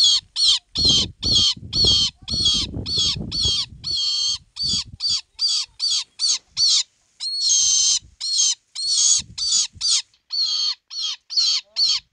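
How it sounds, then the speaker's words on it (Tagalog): A hawk calls over and over in short, sharp, evenly spaced cries, loud and close. The series runs steadily with brief gaps and faint low rustling underneath. "Ito yung lawin dito sa amin mga idol."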